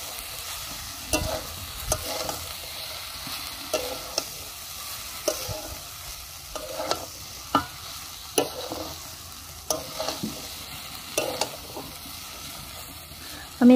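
Flattened rice (chire) frying in a pan with turmeric-coated potatoes for a vegetarian Bengali polau, a soft steady sizzle broken by repeated scraping and stirring strokes of a spatula, close and fairly quiet.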